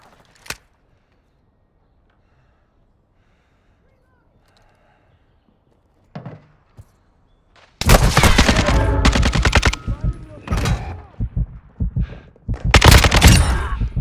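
Kastov 762 rifle fire in a first-person shooter video game: after several seconds of near silence, loud, close bursts of rapid automatic shots rattle in quick volleys with short pauses between them.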